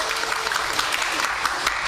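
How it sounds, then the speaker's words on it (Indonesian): A crowd at an Islam–Christianity debate applauds steadily for a pastor, many hands clapping in a dense, continuous patter at moderate volume. "Tepuk tangan untuk Pak Pendeta Muriwali."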